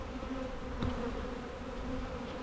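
Honey bees at a nucleus hive hum in a steady, close drone, with a brief louder buzz of one bee passing near, all without talk.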